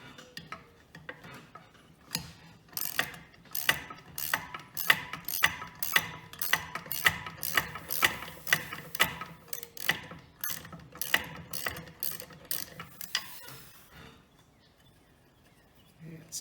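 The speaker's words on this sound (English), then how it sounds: "I don't want to cross thread it, but we'll see how it turns with the wrench" A ratchet wrench turns a tight threaded fitting during a lodge's season opening, giving a long run of crisp, evenly spaced clicks up close that stop after several seconds, leaving quiet.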